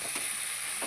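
Cauliflower curry being sautéed in a pan gives a continuous close sizzle, with a couple of soft stirring scrapes rising briefly through the frying hiss, no speech.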